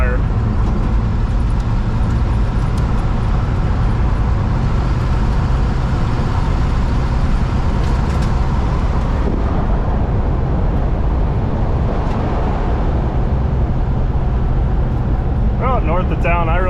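A 1970 Pontiac Grand Prix with a 455 engine cruises along a country road, its engine and road noise forming a constant low rumble throughout, with someone talking over it.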